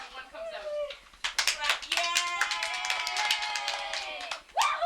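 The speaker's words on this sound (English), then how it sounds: "we can applaud every time one comes out." A small group clapping at a home gathering in 1989, quick, scattered claps that start after a brief pause and continue under excited voices and cheering.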